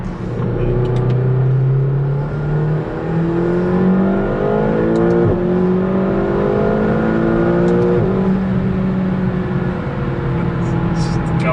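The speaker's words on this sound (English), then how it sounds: "So quick. high spec McLaren GT." A high-spec McLaren GT accelerating hard, heard from inside the cabin: a loud engine drone rising in pitch through several gear changes, with a brief dip between shifts.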